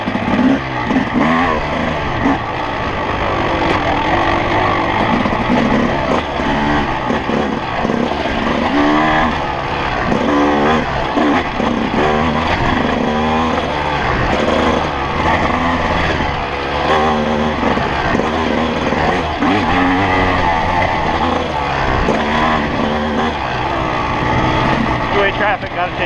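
Honda CR250R dirt bike ridden on a trail at Carnegie SVRA, its two-stroke engine loud and close throughout, rising and falling with throttle changes in a continuous drone.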